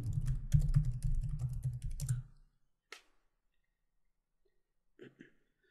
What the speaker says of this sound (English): If you actually go to another browser and type in your domain